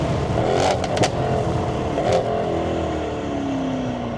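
A tuned Mercedes-AMG GT63s Stage 3 with 860 hp accelerating hard in second gear, heard from inside as a loud, steady engine roar that climbs smoothly, with a couple of brief knocks.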